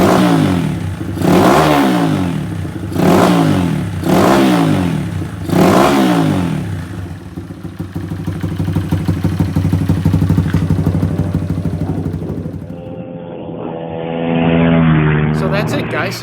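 A modified Honda XR100 motorcycle engine, built for ice racing and supermoto, blips through several sharp throttle revs with a deep burble, then settles into a steady rumbling idle and revs again near the end; someone talks over it.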